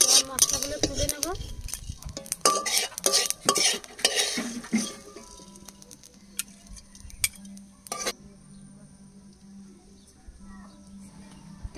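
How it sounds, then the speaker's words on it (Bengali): Dry red chillies, coriander, cumin and pepper are dry-roasted in a pan, with busy clattering and scraping from stirring early on, easing into a faint, quieter sizzle with a low hum. "মশলাগুলো একসাথে ভেজে নেব।"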